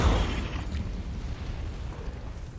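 A fire spell is cast in the video game Hogwarts Legacy: a loud burst opens the blast, which settles into a rumbling, crackling roar that fades slowly.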